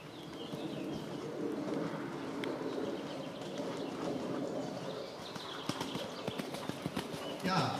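Horses cantering as a ride in an indoor riding arena, muffled rhythmic hoofbeats in the sand, with birds cooing nearby and an instructor's voice calling commands.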